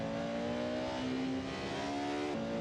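Porsche 918 Spyder engine at Spa Francorchamps holding a steady, loud rising drone with clear harmonic pitch, a brief dip near the end as the revs shift, heard alone without voices.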